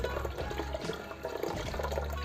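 Cold water is poured into about two kilos of yogurt for Ardabil ash doogh, a steady close splashing and gurgling stream of liquid, fairly loud and continuous with no talk.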